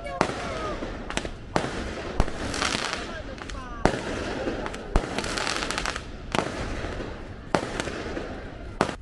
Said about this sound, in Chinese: 他们说晚上过了12点会放烟火